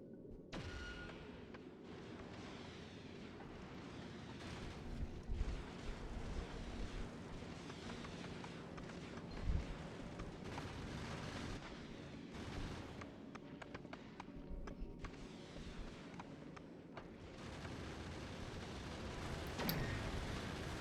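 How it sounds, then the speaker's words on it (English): Rockets firing in Factorio Space Age: a dense, steady roar of launches and explosions that runs the whole time, with scattered louder bursts and no talking. "Need more rockets firing here for sure."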